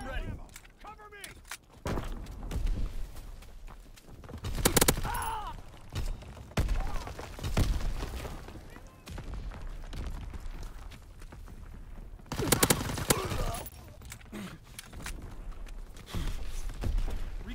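Suppressing gunfire in the Call of Duty WW2 video game, with repeated sharp shots and bursts scattered irregularly through the battle, some loud and close, others quieter amid ongoing combat noise.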